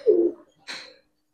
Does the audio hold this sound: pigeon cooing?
yes